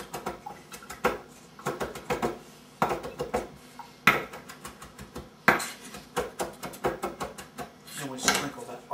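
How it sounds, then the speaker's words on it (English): Fresh parsley being chopped for a raw fish ceviche: rhythmic knife taps on a cutting board in quick clustered bursts with brief pauses, close and fairly loud. "And we chop up the fresh parsley."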